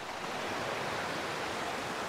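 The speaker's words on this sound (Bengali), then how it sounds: "শুধু ঝর্ণার শো শো শব্দ শোনা যাচ্ছে" Forest waterfall on a hill trail, a steady, faint broadband rushing wash of falling water that continues without break, with no voices.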